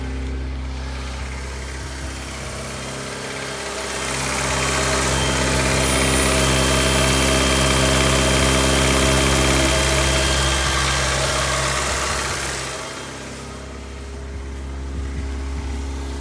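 Honda Civic EF Si engine idling steadily up close after an alternator replacement, a constant low hum and drone that swells slightly louder in the middle before easing back, with no talking.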